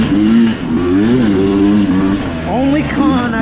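A Sherco SE300 Factory Edition two-stroke trail motorcycle revs and shifts down to second gear on a ride at Crow Canyon, its engine note rising and falling close by, partly mixed with a voice talking over it.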